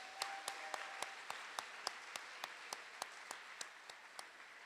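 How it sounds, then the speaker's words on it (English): At a school award assembly in an auditorium, an audience gives a round of applause: a soft, even wash of many hands with a few sharper, louder claps spaced regularly on top, heard from a distance. "Let's have one last round of applause for all of our award winners this morning."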